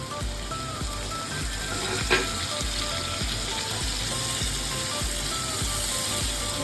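Onion puree frying in hot oil in a pan for Punjabi chole, a steady close sizzle with a repeated soft knock of stirring, and no talk over it.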